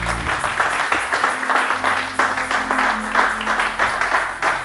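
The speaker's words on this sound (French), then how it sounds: "Non, acclame Jésus, acclame Jésus." Church congregation applauding during a sermon, a dense, steady wash of many hands clapping together, loud and continuous throughout with no pauses.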